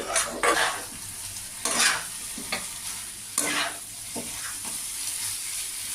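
Pointed gourd and potato are fried and stirred in a pan. A continuous sizzle runs beneath several distinct scraping strokes of a spatula, heard up close and moderately quiet, with no speech.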